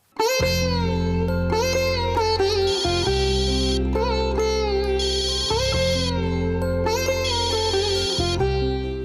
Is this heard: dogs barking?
no